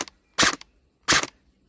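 Two sharp shots from a Bohan SLR gel blaster fired outdoors, each a loud cracking snap with a quick echo, spaced about seven tenths of a second apart with short quiet clicks around them.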